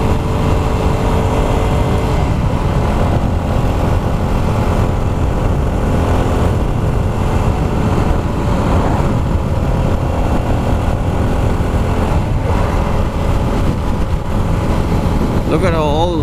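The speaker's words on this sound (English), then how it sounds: "Man, this motorcycle is a blast to ride." A Yamaha WR250R motorcycle engine drones steadily throughout with loud, rushing wind noise, the sound of riding at speed, close and continuous.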